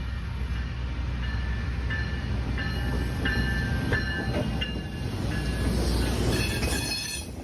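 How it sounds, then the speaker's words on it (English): An MBTA GenSet switcher locomotive rolls past at close range, steel wheels squealing in repeated high-pitched bursts over a steady rumble of rail and wheel noise. "GenSet switchers are becoming less of a common sight around America"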